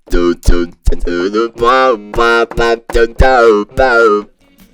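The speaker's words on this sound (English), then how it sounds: "you can do some cool wah-wahs or doo-doo sounds like this." A guitar through an MXR Talk Box makes a string of loud, close, vowel-shaped wah and doo sounds, about ten rhythmic bursts whose tone sweeps up and down.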